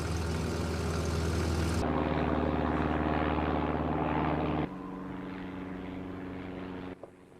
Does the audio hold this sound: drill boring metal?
no